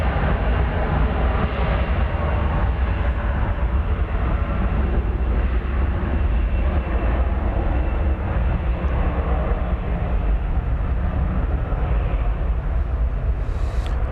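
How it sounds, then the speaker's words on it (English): A jet airliner taking off from the east side of DFW Airport, heard from a distance as a steady broadband roar that holds at an even level throughout, with no voices. "This one's going to be taking off over on the"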